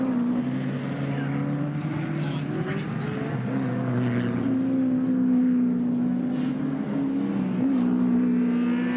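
Touring cars racing at Oran Park in 1987, engines droning and shifting pitch as they pass, a steady loud roar throughout with commentary talk running over it.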